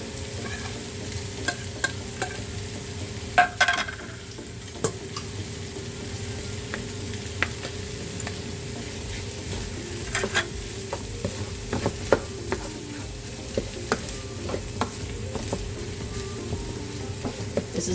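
Canned corn mutton stir-fried in a pan with a pinch of sugar, a continuous sizzle under repeated scraping and clicking of a spatula against the pan, fairly close.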